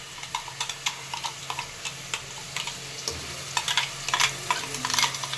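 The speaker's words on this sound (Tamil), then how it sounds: "பட்டை, இலை எல்லாமே மிக்சிங் பண்ணி எண்ணெயில் வதக்க போகிறோம்." Ground onion paste with cinnamon, bay leaf and spices sautés in hot oil for veg kurma, a soft steady sizzle under repeated light scrapes and taps of a spoon stirring the pan, close and without talk.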